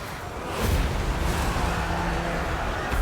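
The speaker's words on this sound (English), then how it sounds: "here comes the banishment" A banishment spell strikes in a fantasy strategy battle game, landing as a heavy, booming impact that swells after a brief lead-in and then rumbles on loudly with a scattered crackle of battle.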